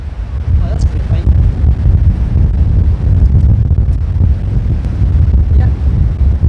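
Strong wind gusting across a golf course, a steady low roar buffeting the microphone throughout, with faint voices briefly audible in the background.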